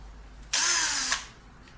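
A 20-volt cordless drill whirs briefly, a short high-pitched motor burst about half a second long that stops abruptly, heard up close against quiet.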